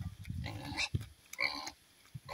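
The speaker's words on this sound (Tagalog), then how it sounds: "Gagawin kong inahin baboy." A pig grunts and snorts close by in short bursts, a few rough grunts spaced irregularly with brief pauses.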